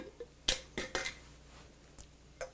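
Homemade copycat Miracle Whip dressing being served into bowls: a few sharp spoon clinks and taps against dishes, spaced irregularly, close and fairly quiet with no talking.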